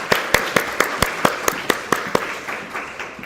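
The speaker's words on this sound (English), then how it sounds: "Let's give her a big round of applause" A room gives a round of applause for speaker Heather Joseph at the LPForum 2026 opening remarks. About a dozen sharp, evenly spaced claps ring out over a steady clapping wash before it fades.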